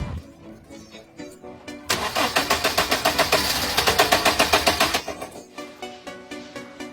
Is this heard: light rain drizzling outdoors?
no